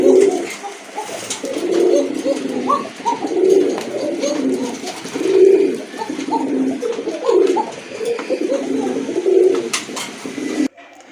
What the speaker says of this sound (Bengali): আরেকটা পেয়ার দেখতে পাচ্ছেন, সাদা কবুতর